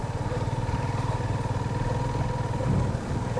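A motorcycle rides slowly along a rough, bad road, its engine putting out a continuous mid-pitched drone with a throbbing pulse and rattling clatter, loud and close throughout, no voices.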